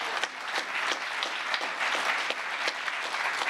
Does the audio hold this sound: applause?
yes